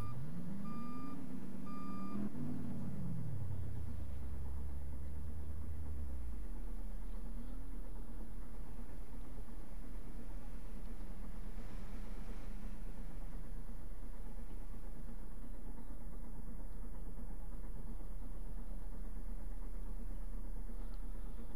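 A mail truck driving in a roleplay video game set in Tennessee: a low, steady engine rumble with shifting tones, opening with a few short beeps, then a continuous drone over faint background noise.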